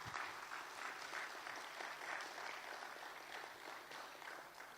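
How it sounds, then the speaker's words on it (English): Steady applause from the audience at the Wikimedia CEE Meeting 2023 closing ceremony in Tbilisi, a dense, even patter of many hands clapping that holds at a moderate level throughout without pause. "So, round of applause."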